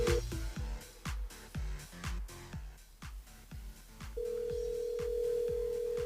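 A telephone-like electronic tone sounds over a regular, rhythmic thumping beat, then holds as a steady continuous tone.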